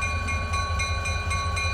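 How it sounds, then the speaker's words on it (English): A freight train at a quarry gives off a low, steady diesel rumble in rainy weather, with faint regular clicks repeating over it throughout. "The rest of the train is just to the right."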